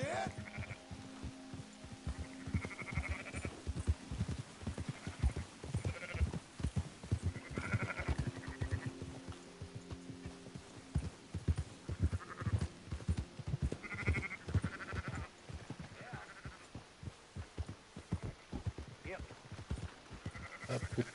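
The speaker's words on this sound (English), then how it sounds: "Ovejas." Sheep bleat over and over on a ranch amid hoof clatter and rustling, while someone shouts and talks over them in bursts.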